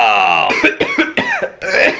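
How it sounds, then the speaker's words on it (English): One person coughs roughly a few times in a row, loud and close, after sniffing bad-smelling old gasoline on the dipstick of a vintage Arctic Cat Panther snowmobile. "I don't know if that was the COVID making me cough"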